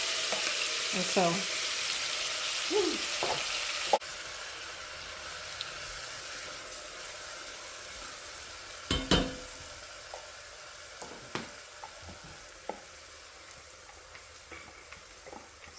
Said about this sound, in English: It's going to splitter and splatter because there's a lot of water.